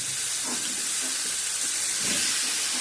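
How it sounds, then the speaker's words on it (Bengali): Eggplant pieces and black cumin seeds hit hot oil left from frying hilsa fish, giving a loud, steady, hissing sizzle that carries on without pause, with faint stirring bumps underneath. "মাছ ভাজার এই তেলে কালো জিরে দিয়ে দিলাম, বেগুনগুলো দিয়ে দিলাম"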